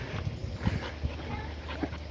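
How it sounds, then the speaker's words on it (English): Dogs scuffle on an early-morning hike, with short whimpers, yips and panting breaking through a continuous outdoor noise, fairly faint and close, while people talk at times. "a little dog fight here."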